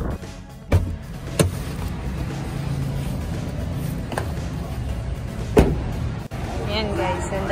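Cars in the parking lot of the Taytay tiangge market, with a steady low traffic rumble and several sharp door or window thumps near the mic.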